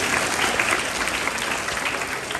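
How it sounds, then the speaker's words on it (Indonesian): Dense, continuous clapping from a large audience at a school centenary assembly in an Islamic boarding school, loud and even from start to finish without any voices on top. "Boleh beri tepuk tangan untuk Dinia Putri."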